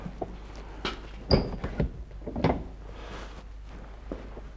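The door of an old horse-drawn carriage gives a few wooden thunks and knocks, one sharper clunk with a brief metallic ring, amid quieter handling bumps and a low hum.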